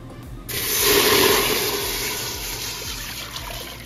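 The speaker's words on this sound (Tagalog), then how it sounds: "Dito sa ating pot, ilalagay natin tong tubig." Water runs steadily into a cooking pot for a pork pata humba, a continuous close pour that swells in the first second and then settles into an even stream with no talking.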